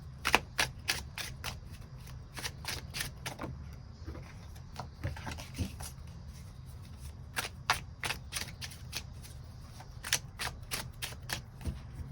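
Tarot cards being shuffled and drawn during a reading, giving repeated crisp flicking and riffling bursts in quick clusters across the whole stretch, close and fairly loud over a low steady hum, with no talking.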